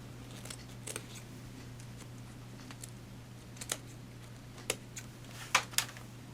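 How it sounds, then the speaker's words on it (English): Scissors trim upholstery fabric while a Parsons chair is reupholstered, giving a few faint, sparse snips and crisp cuts over a steady low hum, getting slightly louder toward the end. "So we can go ahead and trim out that little triangle piece."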